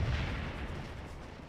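Artillery fire in the Scourge of War Civil War strategy game at the Battle of Stones River, a deep sustained rumbling boom that fills the whole clip with no talk.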